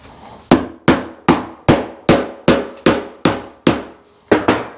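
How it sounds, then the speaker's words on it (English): Ten loud, evenly paced hammer blows bang on metal, each ringing briefly, with the last two coming closer together, as the metal is pushed down and together. "so we hammer that down"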